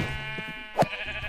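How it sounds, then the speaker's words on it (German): Sheep bleating in the video game Minecraft, a single short bleat rising clearly above a steady background of game music and ambience. "Oh, da ist ein Schaf. Endlich."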